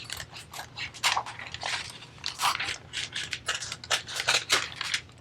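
Scissors cut a laminate sheet in half in a craft setting for sublimating a Dollar Tree cup, with a rapid series of close, crisp snipping and rustling strokes and no talking.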